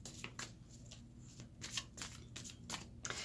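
Tarot cards are pulled and shuffled close up, a quick series of crisp riffling flicks and slaps in an uneven rhythm, quiet and with no voices.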